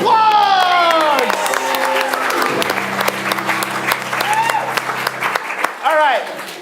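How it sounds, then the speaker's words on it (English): A crowd at a live stage show applauds and cheers loudly and steadily, with whoops and excited shouts rising over continuous clapping. "that's our round of applause"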